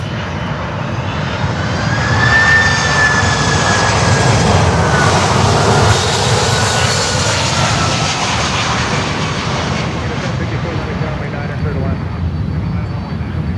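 A plane taking off on runway 9 at Miami airport gives a loud, steady engine roar that swells and then slowly fades.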